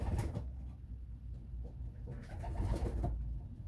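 Racing pigeons coo in a loft in the UK, soft low throaty calls rising and falling close by, with a few rustles and no talking.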